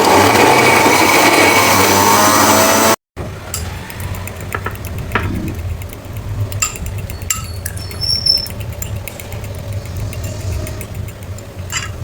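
An electric grinder whirs loudly while grinding dried, browned onions for about three seconds, then cuts off abruptly, leaving a quiet room with faint clicks and rattles.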